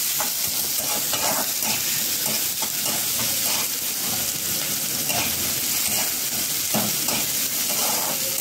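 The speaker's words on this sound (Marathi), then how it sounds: "तेल खूप छान असं टाकलेलं होतं आणि आता आपण कांदा मस्त असं भाजून घ्यायचं" Onion sizzles and fries steadily in hot oil in a home kitchen, a loud continuous crackling hiss with occasional stirring scrapes, no talking.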